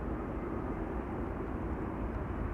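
A jet airliner arriving on runway 27 at Amsterdam Schiphol Airport gives a steady, unbroken engine roar. The deep rumble holds at an even moderate level throughout, with no voices.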